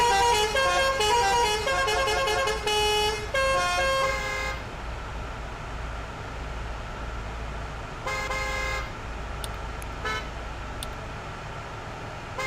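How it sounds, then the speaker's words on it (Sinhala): Bus horns from a bus simulator video game honk in a run of repeated musical toots, then fall quiet over engine rumble before a few more short honks. "ඕගොල්ලන්ට ඇහෙනවද ඉතින් හෝන් ටික"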